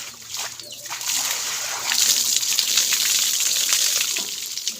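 Water splashes and sloshes as people bathe at an outdoor well, bursts of pouring water hitting the ground close by, with brief voices mixed in.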